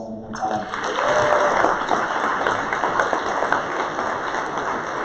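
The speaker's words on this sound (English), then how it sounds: "let's give it a round of applause one more time" Audience applause at a conference event, a dense sustained wash of many hands clapping at steady loudness throughout, with a few faint voices beneath.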